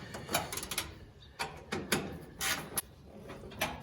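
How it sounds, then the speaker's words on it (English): Someone tightening the shroud of a two-piece fan on an air-bagged Datsun minitruck, with a run of short ratcheting and rattling bursts in an uneven rhythm, close and moderately loud, with no voices. "Just tightening the shroud back up"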